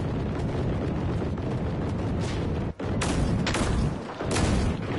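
Fireworks go off in a video game as a dense, continuous crackle and booming roar, loud and close. There are brief drops near the middle and end.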